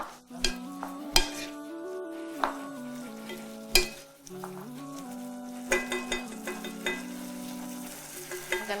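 Carrots and green beans go into a simmering pot of tomato-ram sauce, followed by stirring with a utensil: scraping strokes and occasional clinks against the pot over a soft sizzle, with a sustained tonal hum underneath.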